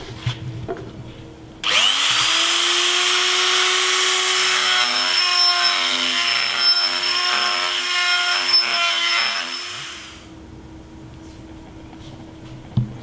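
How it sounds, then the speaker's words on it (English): A Dremel rotary tool grinds out the inside thread of a brass plumbing pipe fitting, a steady high-pitched whine that runs for about eight seconds before stopping. "start to grind out with a Dremel the inside of that thread"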